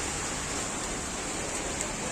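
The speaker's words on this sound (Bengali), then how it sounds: "ভালোই বৃষ্টি হচ্ছে" Steady, dense hiss of heavy rain pouring down in Cuttack, constant and unbroken with no voices.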